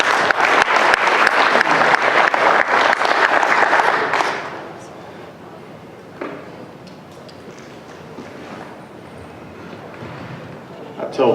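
Audience at a talk by a trauma surgeon bursts into loud, close clapping that lasts about four seconds and then fades, leaving a quiet room with a few stray claps and faint murmurs.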